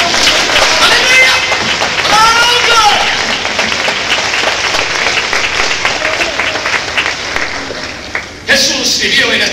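A church congregation claps and applauds steadily under a preacher's loud voice, the applause fading slightly before a brief pause and a final burst.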